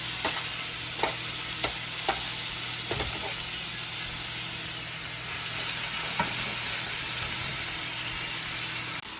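Mushrooms grilling in a pan beside steak, a loud continuous sizzle and hiss with a few sharp clicks of a utensil, close and uninterrupted throughout.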